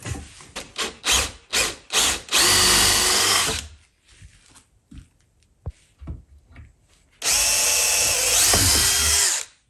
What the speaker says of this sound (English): use this Forstner bit to drill a small hole to hide the head of the screw